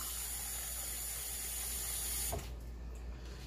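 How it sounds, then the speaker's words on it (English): A steady hiss of two cups of water hitting a hot pan after searing steak and onions, loud and close, then a sharp burst near the end as the sizzle drops to a softer steam. "So I'm going to add 2 cups of water."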